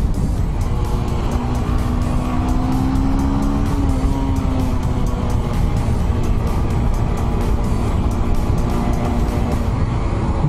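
A car engine revs hard in first gear and stays loud and continuous for about ten seconds, with a steady high-pitched drone and some tire noise. No one speaks.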